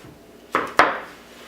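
A knife chops straight down through a fennel bulb on a cutting board, two sharp close thuds a moment apart in an otherwise quiet kitchen, no talking.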